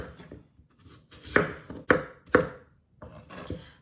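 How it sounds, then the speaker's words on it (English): A knife chops food into small bite-sized chunks on a board: several crisp, close chops, with a cluster of three strong strikes in the middle and quieter taps around them, with no voices. "So I'm just chopping this little baby into small bite-sized chunks."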